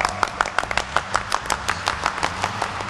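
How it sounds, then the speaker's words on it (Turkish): A television game-show studio audience claps for team A with quick, sharp, irregular hand claps, fairly close and lively, and faint voices underneath. "İlk önce A takımına bir alkış alalım."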